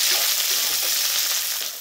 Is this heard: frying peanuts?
yes